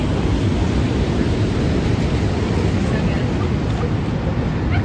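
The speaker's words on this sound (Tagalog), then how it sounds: "Tahimik po ng alon. Matahimik na tahimik." Gentle ocean waves at low tide wash in with a constant broadband hiss and low rumble, soft and continuous, with no distinct breaking crashes.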